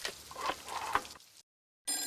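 Telephone bell ringing in a rapid trilling burst, fairly close and clear, stopping briefly into silence before starting up again at the end.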